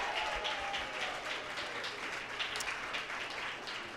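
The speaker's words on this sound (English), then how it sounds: "All right, let's give them a round of applause." A crowd at an outdoor rally for direct care workers applauds steadily, a dense wash of clapping at moderate distance that fades slightly toward the end.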